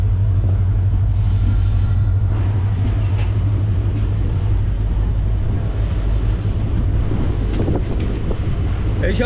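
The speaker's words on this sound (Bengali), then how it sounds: "ছেড়ে বেরিয়ে গেল আমাদের ট্রেন।" A local train pulls out of New Mal Junction, a small station on a route through the Dooars, rumbling steadily and loudly with wind buffeting the microphone and a few faint clanks over the motion.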